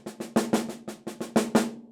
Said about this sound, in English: we have this juicier slurred roll